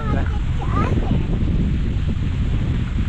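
Steady wind roars and buffets the microphone throughout, a constant low rumble with no breaks, briefly joined by a faint voice near the start.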